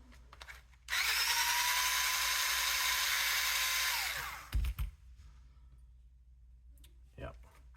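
Power drill backing out 2mm screws from the skid plates of an Associated Rival MT10 RC monster truck, one steady loud whir of about three seconds that winds down, followed by a few clicks and handling sounds.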